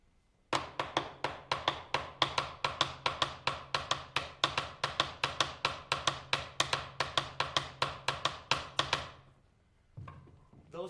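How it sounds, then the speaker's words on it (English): A big wooden block struck with two sticks, as in traditional Cuban guaguancó rhythm, plays a fast, steady run of sharp, hollow clacks close up for about nine seconds, then stops, leaving a faint rustle. "It's a big wooden block that they just hit with 2 sticks."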